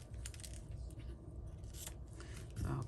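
Scissors snipping through paper or tape for a handmade card, a few quiet close cuts and rustles, ending in a slightly louder scrape.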